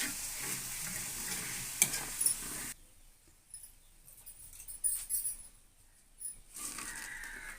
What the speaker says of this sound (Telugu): ఇదే విధంగా అన్ని బెండకాయ ముక్కల్ని ఫ్రై చేసుకోవాలండి